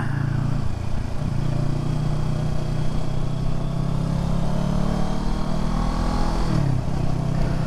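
Kawasaki Ninja 650 motorcycle engine humming steadily while ridden over a bumpy road, loud and close with wind rush, its pitch dipping briefly near the end as the rider shifts or eases off.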